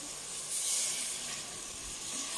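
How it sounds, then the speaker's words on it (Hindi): Water pours into a hot pot of ghee, potatoes and minced meat with a steady sizzling hiss, steam rushing up briefly and settling into a continuous bubbling hiss. "अब हम पानी डाल रहे हैं इसमें।"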